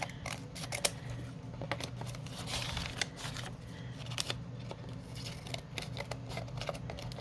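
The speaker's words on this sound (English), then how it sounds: "I'll use these old scissors to get this off of here" Old scissors snipping through slightly wet paper, a run of soft, irregular close-up cuts and rustles at low level with faint handling noise around them.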